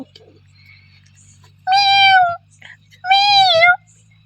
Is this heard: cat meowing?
yes